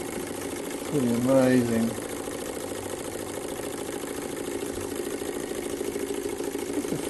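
An electric motor spins a PC case fan turned generator through a belt on its largest pulley, giving a steady, even whir with a faint hum underneath. Someone speaks briefly near the start.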